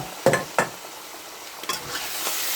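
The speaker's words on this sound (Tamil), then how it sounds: "நல்லா வதக்கி விட்டுக்கலாம். இப்போ கிண்டி விட்டுக்கலாம்." Squid and brinjal being stirred and sautéed in a pan: a few scraping strokes of a spoon against the pan over a faint sizzle, with short bursts spaced apart.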